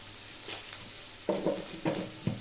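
Vegetables sauté in a pan for spicy thuvaiyal, a soft steady sizzle with a few sharper stirring scrapes toward the end, faint and close.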